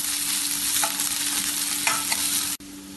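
Chopped onion, ginger, garlic and green chili sauté in a hot pan with a steady, close hiss, a few soft stirring scrapes rising through it before the sizzle cuts off abruptly near the end.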